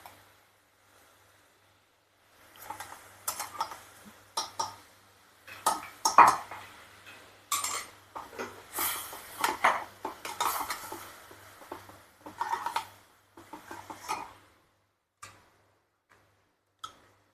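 Masala with Kashmiri chilli powder roasting in a pan for a bajra khichdi, a spoon scraping and clinking against the pan in irregular bursts over faint sizzling, close and quiet, no talk.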